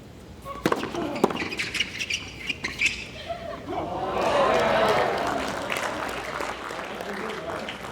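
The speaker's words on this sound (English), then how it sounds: "that one elicited a few oohs and ahs from the crowd" Spectators at a San Diego–Chicago volleyball match let out a swelling murmur of oohs and ahs from around four seconds on, after scattered claps, thuds and squeaks of play in a sparsely filled 2,500-seat stadium.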